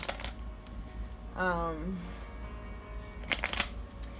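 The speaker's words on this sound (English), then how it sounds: "Let me make sure I'm shuffling really well." A deck of tarot cards is shuffled close by, with a short papery riffle and quick shuffling bursts toward the end, alongside a brief hummed vocal sound partway through.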